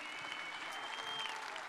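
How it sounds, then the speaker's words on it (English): A crowd applauds the top 25 fishing teams at the Mr. Crappie Invitational championship day expo, producing dense, steady clapping that stays loud and even throughout. "applause for their hard work."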